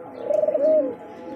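Pigeons kept in a loft coo in a soft, rolling series of notes that swell and fade over about a second, close by and clear with no talk.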